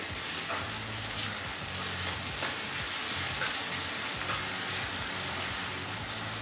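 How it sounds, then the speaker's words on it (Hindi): Garlic-ginger paste fries in hot oil in a pan, a loud, steady close-up sizzle with faint stirring scrapes and no voices. "बस हल्का सा 20-25 सेकंड के लिए इसको हल्का सा फ्राई करेंगे ऑयल के अंदर"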